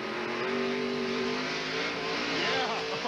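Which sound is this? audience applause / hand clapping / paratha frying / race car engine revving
race car engine revving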